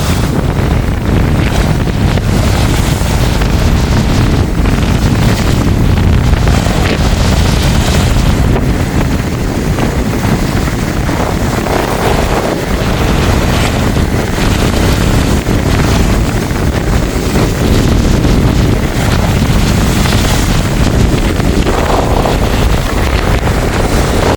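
Rough sea waves surge and crash in strong wind on the Jaffna coast, a loud continuous roar of surf with heavy wind buffeting the microphone throughout and no voices.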